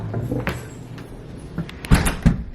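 The front door of a furnished house opening, with a latch click, a soft sliding scrape and a couple of firm thuds close by.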